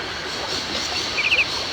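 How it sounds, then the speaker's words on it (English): A train in the Syberia video game rumbles and hisses steadily, a broad, loud mechanical wash with faint high metallic squeals near the end and no voices. "The train should stop, then leave again."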